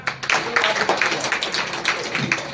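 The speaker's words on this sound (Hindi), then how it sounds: "तालियां बजा दो जरा" Crowd clapping at a school farewell ceremony for Class 8 students, a busy, fairly loud spread of hand claps with uneven bursts sustained across the moment, faint murmurs underneath.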